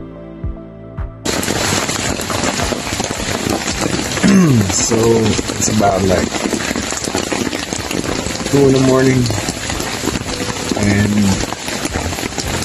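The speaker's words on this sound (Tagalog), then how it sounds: "lakas ng ulan ngayon dito," Heavy rain drums steadily on a tent and tarp at a surf camp around 2 a.m., a dense constant hiss and patter close by, with someone speaking quietly over it.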